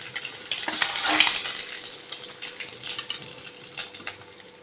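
Small nethili anchovy fish frying in hot oil, a steady close sizzle and crackle with light clinks of a utensil stirring through the pan.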